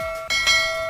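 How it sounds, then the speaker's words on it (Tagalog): A notification bell chime: one clear, bright ring with a sustained tone, struck twice in quick succession and left to ring out alone. "don't forget to click the notification bell"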